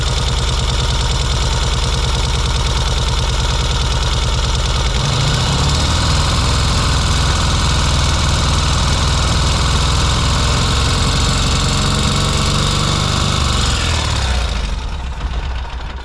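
Motorcycle engine running rough after being started on just one cylinder, a loud, continuous close idle whose tone shifts and thickens partway through before dropping near the end, with no talk over it.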